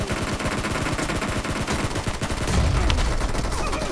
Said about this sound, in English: Who is shooting me?